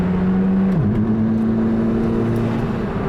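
A Mazda Miata engine held at high revs, a steady loud drone that dips sharply and settles into a lower, continuous tone as the clutch is dumped, with no voices.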